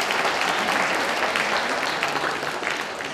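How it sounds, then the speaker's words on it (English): Round of applause from an audience greeting a visitor from Latvia after a Robin Hood trailer screening, a dense steady clatter of clapping that tapers slightly toward the end. "Latvia, it's a round of applause."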